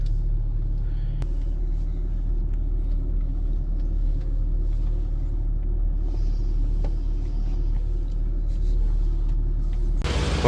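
A Tata Safari engine idles nearby with a steady low rumble that holds even for the whole stretch, ending in a brief louder burst of noise.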